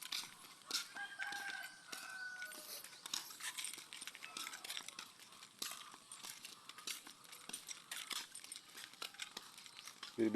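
Hens clucking and a rooster crowing at a rural spot in Guinsaugon, Saint Bernard, Southern Leyte. The birds sound fairly faint and distant over rustling ambience, and a voice speaks near the end.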